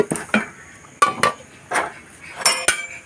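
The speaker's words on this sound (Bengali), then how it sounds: "এখন আমি মিষ্টি কুমড়াগুলো দিয়ে দিচ্ছি।" Sweet pumpkin pieces going into a pan of fish and spices: a handful of light clinks and knocks of utensil against cookware, spaced irregularly and close by.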